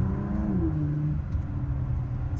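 A Ford GT engine, low rumbling and revving from inside the car as it pulls, the engine note rising briefly then settling into a steady drone, close and moderately loud with no talking.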